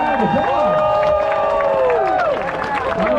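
Crowd cheering and applauding at a Spartan Race podium ceremony, loud continuous clapping mixed with whoops and shouts, with an announcer's amplified voice talking over it.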